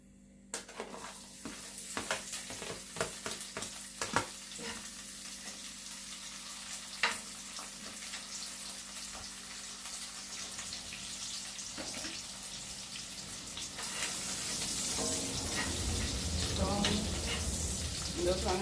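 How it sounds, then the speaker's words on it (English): Scallion, onion, garlic and thyme sauté in oil for Jamaican beef patty seasoning, giving a steady broadband sizzle with scattered stirring clicks, growing louder and fuller toward the end. "I have scallion, onion, garlic, and thyme. So I'm going to saute that now."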